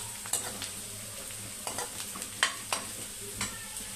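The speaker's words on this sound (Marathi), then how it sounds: "आता व्यवस्थित कांदा आपल्याला परतून घ्यायचा आहे।" Chopped onion sautéing in a pan for a sandge bhaji, with steady sizzling broken by several sharp clinks and scrapes of a stirring spoon.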